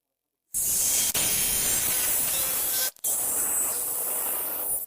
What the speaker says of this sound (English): the spray gun with the little swivel joint that turns in every direction, it's essential. So, we're ready to load up with paint and paint this little garage